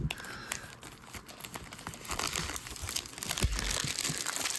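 Wax-wrapped 1991 Line Drive baseball card packs are torn open up close, with continuous crinkling and crackling of the wrappers and a few sharper ripping bursts.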